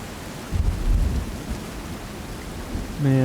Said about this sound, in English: Like, the storm sounds good.